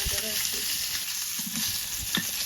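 Rohu fish pieces from a home pond fry in hot oil with a loud, dense, unbroken sizzle close at hand, dotted with low bubbling thumps and occasional sharper spits.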